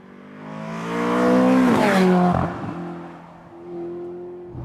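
A turbocharged Ferrari California T engine revs up loudly, rises in pitch, shifts sharply, then settles into a steady lower drone as the car drives on.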